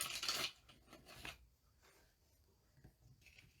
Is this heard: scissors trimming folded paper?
yes